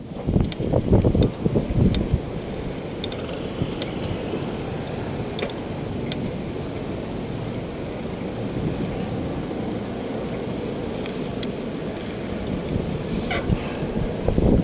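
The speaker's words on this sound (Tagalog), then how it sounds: "Lakas ang hangin ngayon dito." Strong wind buffets the microphone throughout a bike ride from Makati to MOA, heavy low rumbling gusts that swell loudest at the start and end, with occasional sharp clicks.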